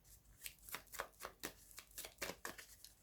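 A deck of tarot cards is shuffled close up, a quick series of soft riffling and slapping bursts at a quiet level.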